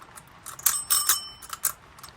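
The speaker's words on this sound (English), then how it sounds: "Nice nickel-plated brass bell for a bicycle." Several quick rings from an old Lucas King of the Road bicycle bell of nickel-plated brass, sharp metallic dings close to the microphone with a brief ringing tail, no voices.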